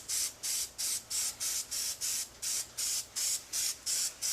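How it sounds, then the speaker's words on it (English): Spray paint misting onto coat hanger meat hooks in a steady run of about a dozen short, even hissing bursts, each roughly a quarter second long, close and moderately loud with brief gaps between them. "I just want to mist them a little bit"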